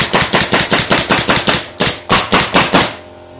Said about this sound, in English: you pull the trigger and then you stay on the trigger.